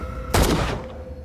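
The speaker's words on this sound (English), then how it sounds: "I'll just shoot him" A single sharp gunshot rings out in the 2018 Call of Cthulhu video game, a sudden loud blast at a harbour setting that decays over about half a second against a steady low background hum.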